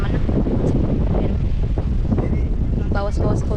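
Wind buffets the microphone outdoors at a camp in a loud, continuous low rumble, with a voice talking over it toward the end.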